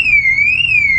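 Aftermarket car alarm fitted to a second-hand Alfa Romeo, a loud, piercing electronic siren tone that wavers up and down, close and continuous.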